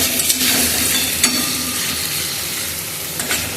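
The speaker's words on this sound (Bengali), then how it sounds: "মশলাটা আস্তে আস্তে কষাচ্ছি" Spice paste slowly stir-fried in a pan for a Bengali bata fish poppy-seed curry: dense, loud, steady sizzling with occasional spatula scrapes, close up.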